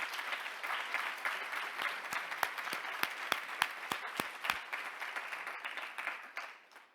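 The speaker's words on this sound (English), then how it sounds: "So a warm applause to all of you, to all my colleagues" Audience applause at the European Partnership Stakeholder Forum 2024 plenary: a sustained bed of clapping from a seated crowd with several sharp, louder nearby claps standing out in the middle, fading away at the end.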